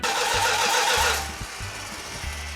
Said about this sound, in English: We had to do a few minor adjustments to get her to kick over and fire off.